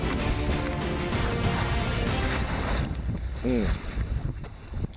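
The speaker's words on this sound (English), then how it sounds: "Nothing but the sound of the water sloshing by the hull and the little fizz out the stern and the click of the winch." Water sloshes and rushes along the hull of a Pearson sailboat under sail in choppy seas, a loud, steady wash mixed with wind noise on the microphone. A brief creaking squeal comes near the end, and a voice speaks briefly.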